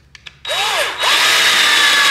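A power drill whirs loudly and close, driving a screw into the bracket of a cordless faux wood blind, with a couple of short taps first, then a steady, rising whine that holds to the end.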